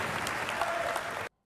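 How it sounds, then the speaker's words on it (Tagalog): Crowd applause breaks out during a played political speech at a Philippine Senate-style hearing, a dense, steady wash of clapping that holds evenly and then cuts off abruptly. "ba't gigil na gigil siyang pumalakpak?"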